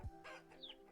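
Chickens in the survival game Vintage Story give a short cluck, with a low thump at the start and a brief high squawk near the end, fairly close and on their own.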